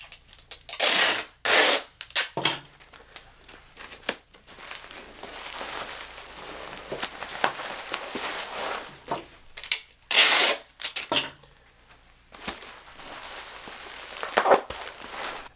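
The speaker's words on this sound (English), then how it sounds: "I go ahead and tape down all these edges to make sure that this isn't going to move again." Packing tape is pulled off the roll in loud screeching bursts and pressed down over bubble wrap around boxed dishes, with crinkling and handling noises between the pulls.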